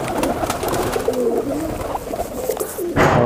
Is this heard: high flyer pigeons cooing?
yes